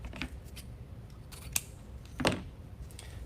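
Scissors snip through a ribbon strip for a grapevine wreath bow, a few crisp close cuts, with one sharper snip near the middle and a longer crunching cut later.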